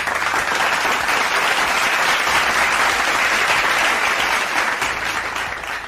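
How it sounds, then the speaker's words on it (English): A studio audience at a finance talk show breaks into sustained, dense applause, loud and even throughout before tapering slightly at the end. "so he deserves an applause"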